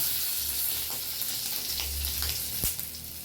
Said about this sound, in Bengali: হ্যাঁ, আর দিয়ে দেবো রসুন, রসুন কুচিয়ে নিয়েছি বন্ধুরা